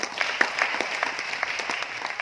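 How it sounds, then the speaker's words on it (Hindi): Audience applause at a business meeting in Aurangabad, Maharashtra: a steady, moderate patter of many hands clapping without a break, with a few sharper individual claps standing out. "ताली बजा लीजिए, हो गया आरसीएम।"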